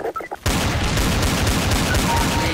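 Rapid Counter-Strike: Source gunfire bursts in suddenly after a short moment of quiet and continues loud and dense to the end, with no letup.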